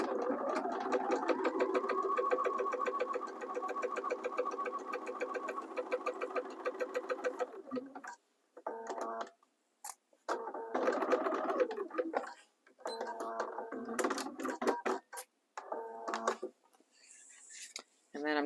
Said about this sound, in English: I'm going to just go sew down this side as well.